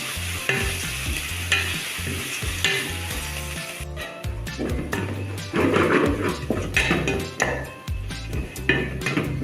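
Onions for chicken biryani fry and sizzle in a pan, a utensil stirring and scraping them in repeated close strokes with occasional metallic clinks.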